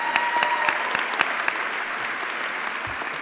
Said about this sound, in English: Let's have another round of applause for all of our honorees today.